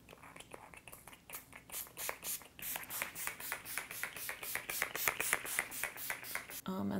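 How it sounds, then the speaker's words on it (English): Setting spray misted onto a face during makeup, a rapid series of short hissing spritzes in quick rhythm, close and fairly loud, with a brief louder noise at the end. "you wanna make sure that you're really shaking it before you apply it and do some like test sprays first"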